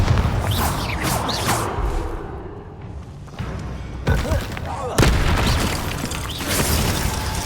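Bombarda spell blasts in the Hogwarts Legacy video game, several booming explosions and thuds going off in quick succession amid a dense, noisy combat soundscape.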